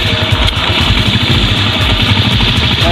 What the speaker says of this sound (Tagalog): So yan, guys, no, so papandarin natin itong motor, kickstart natin, no.